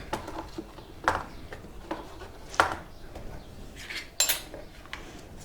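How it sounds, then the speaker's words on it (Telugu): Chopped vegetables for katta, including bottle gourd, brinjal, onions and tomatoes, drop into a pressure cooker in a series of sharp metallic clinks and soft thuds, spaced irregularly with quiet gaps between. "మనం కట్ చేసుకున్న కూరగాయలన్నీ కూడా ఒకసారి కుక్కర్లో వేసుకుని ఉడికించుకుందామండి"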